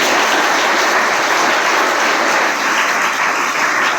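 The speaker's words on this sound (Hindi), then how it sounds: "तो एक बार जोरदार ताली" Loud, sustained applause from an audience filling a hall at a ceremony honouring a Padma Shri recipient, a dense continuous roar of many clapping hands with no talk over it.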